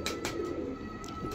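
Pigeon cooing from an old-breed desi female pigeon kept by a pigeon fancier, a soft low murmuring coo running steadily through the short stretch, close by with faint background noise.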